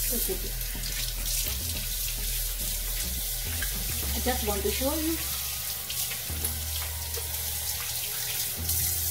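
Cold tap water runs steadily into a sink with splashing as someone rinses their face, while a person speaks briefly over it.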